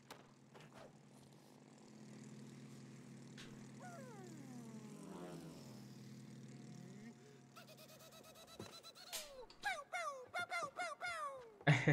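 Airplane engine drone from the video game It Takes Two hums steadily, followed by a run of chirpy, bird-like electronic game effects toward the end.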